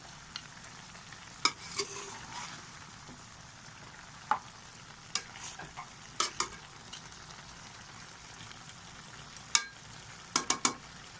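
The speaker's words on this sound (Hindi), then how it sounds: "इसे अच्छे तरीके से हिलाते जाएंगे।" Onions frying in a pan while being stirred: a soft, low background sizzle with scattered sharp spoon clicks and scrapes, clustering near the end, and no talking.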